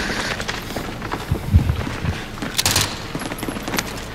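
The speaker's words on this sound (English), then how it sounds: "they're shooting from lighthouse" Gunfire in a video game rings out from a lighthouse, heard as a few scattered bursts at mid distance, with a louder crack near the middle and a short flurry toward the end, over a steady ambient background.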